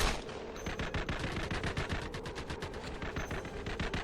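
Pistol fire in the shooter video game E.T. Armies rattles out in a fast, relentless string of sharp shots, loud and close, with barely a gap between bursts.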